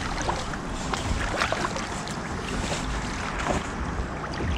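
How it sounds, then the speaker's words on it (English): Kayak paddling on open water, gusty wind buffeting across the microphone over soft splashes and the wash of water, with quick paddle dips recurring irregularly throughout. "That's it, you're paddling."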